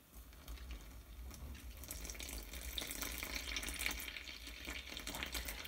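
Water poured from a tap into bread dough ingredients, a steady faint hissing splash that continues without pause.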